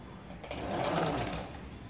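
A sewing machine stitches a waistband onto straight-cut ladies' pants, a quiet, steady mechanical whirr that rises and fades over a couple of seconds.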